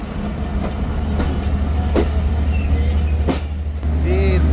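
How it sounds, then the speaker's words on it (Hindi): Khyber Mail passenger train pulling out of a station on its Rawalpindi to Karachi run, a steady close rumble of rolling carriages with scattered clanks and a thin metallic squeal near the end. "यहाँ पर 5 मिनट स्टॉप के बाद हमारी ट्रेन रवाना हो रही है"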